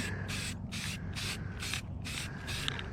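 Repeated bursts of spray paint hissing from a can outdoors in 70-degree weather, about six short sprays in a steady rhythm, close and fairly loud over a low background hum.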